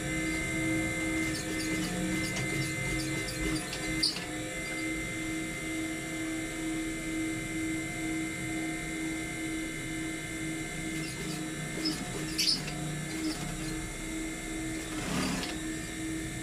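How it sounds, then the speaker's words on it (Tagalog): A worn, noisy sewing machine stitches a trouser waistline, a steady mechanical hum and rattle running throughout at moderate level, with a few sharper clicks and knocks. "sewing na natin to. Medyo maingay yung machine natin"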